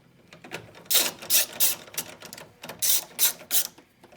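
Screws being driven into an HP 2035 printer, giving a run of short, close mechanical clicking and ratcheting bursts in an uneven rhythm with brief pauses between them and no talking.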